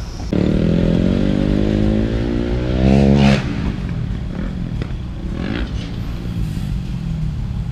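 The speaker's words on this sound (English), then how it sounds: "How's the bike running, Rich?" A freestyle motocross bike's engine revs loud and close, rising to a sharp peak and then dropping back, with harmonic engine tone steady through the rest under outdoor noise.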